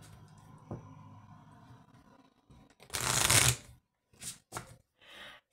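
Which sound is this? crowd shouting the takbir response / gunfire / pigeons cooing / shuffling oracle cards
shuffling oracle cards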